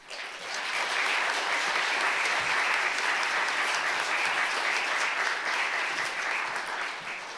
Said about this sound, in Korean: 우리 박수로 우리 김신영 원로 목사님 모시도록 하겠습니다